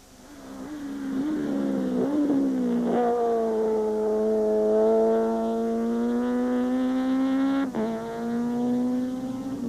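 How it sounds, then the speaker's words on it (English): A Volkswagen rally car revs hard around a racetrack, its engine note climbing and holding steady through gear changes, loud and close for nearly ten seconds with no voices. "Etienne Lorenz and Andre Vermeulen just loved throwing a rally car around a racetrack"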